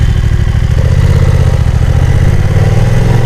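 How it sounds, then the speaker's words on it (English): The parallel-twin engine of a BMW F900XR motorcycle rumbles close and loud in a steady, throbbing idle that lifts slightly near the end, with no voices over it. "the rumbling sound of the engine, the parallel twin"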